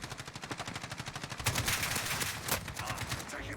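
Gunfire in the Call of Duty Modern Warfare Warzone battle royale: a rapid automatic burst of evenly spaced shots, then a denser, louder spell of overlapping fire, with game sounds continuing underneath.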